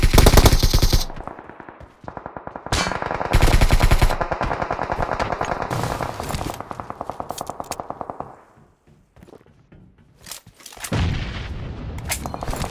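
Heavy bursts of automatic gunfire from PUBG Mobile in a competitive match, loud rapid volleys with brief pauses and echoing booms, running almost continuously with a quieter gap near the end.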